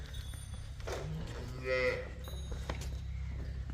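A Jersey cross cow on a dairy farm gives a single drawn-out moo in the middle of the clip, moderately near, over a low steady background hum.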